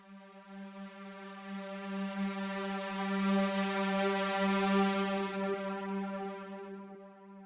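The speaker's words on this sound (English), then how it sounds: "It was created using analog brass and winds, and it's essentially a fading build up" A fading build-up effect played on analog brass and winds from a tech house production, sustained stacked harmonic tones swelling steadily with a bright rising wash that cuts off near the end, leaving the tones to fade.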